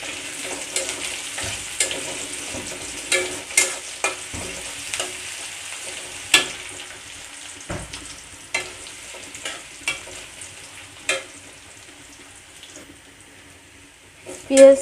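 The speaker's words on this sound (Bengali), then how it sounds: "পেঁয়াজটা দিয়েও ভালো করে ভেজে নেব।" Onion and garlic fry in a pan, a steady broad sizzle running throughout with repeated sharp clicks and scrapes of stirring, close and fairly loud, ending in a louder clatter.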